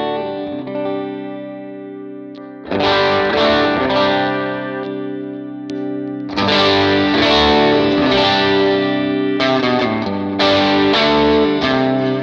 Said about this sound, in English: Here's our clean tone.